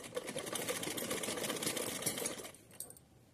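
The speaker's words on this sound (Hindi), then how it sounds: "तो एक साथ लेस और फैब्रिक दोनों अटैच हो जाएंगे। तो यहाँ एक साथ सिलते चलेंगे हम।" A sewing machine stitches lace and folded cotton fabric together in a steady, fast continuous whir, running loud and close before stopping abruptly near the end, followed by a few faint clicks.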